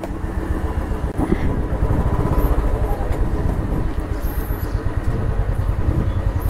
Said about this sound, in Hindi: सो गाइस बाइक रेडी है, अब यहाँ से निकलते हैं।